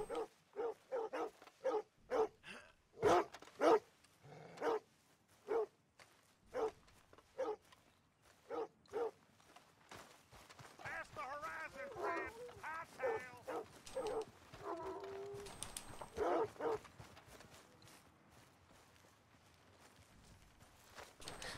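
A dog in Red Dead Redemption 2 barks repeatedly in short, evenly spaced yaps, then gives way to whimpering, yipping sounds and scattered noises, fairly quiet overall.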